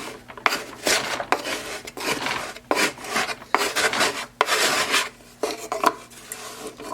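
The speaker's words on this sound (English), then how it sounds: "we're just going to trim it on the same bat that we threw it on" A clay pie pan being trimmed on the pottery bat it was thrown on, with rough scraping and rasping strokes in bursts separated by brief pauses, close and fairly loud.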